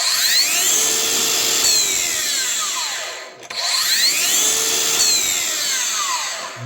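A Milwaukee 7.25-inch miter saw cuts wood twice, each time with a loud, close motor whine rising in pitch and then sweeping sharply down as the electric brake stops the blade.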